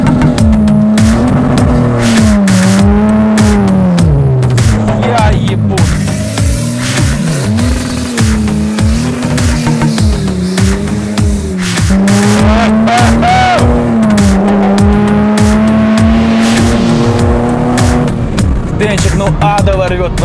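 VW Golf R with a stage 3 big turbo conversion driving hard on the street, engine loud and rising and falling through gears with tire noise, continuous over twenty seconds while people talk inside the car.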